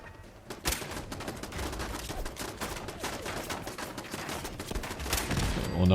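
Sustained turret gunfire in Fallout 4 survival mode, dense rapid bursts of shots running continuously with rising intensity toward the end, loud and close.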